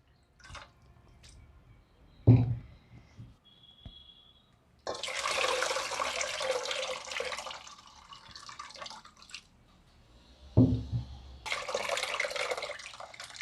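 Water splashes and sloshes in bursts as green moong beans are swished and rinsed in a bowl to loosen their skins, with a few sharp knocks against the container between rinses.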